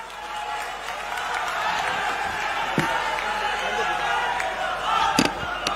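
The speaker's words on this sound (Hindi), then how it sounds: "जोरदार तालियां माननीय राहुल गांधी जी के लिए" A crowd at a political housing-justice rally applauds and cheers for Rahul Gandhi, a dense, sustained roar of clapping and voices with a few sharp louder bursts near the end.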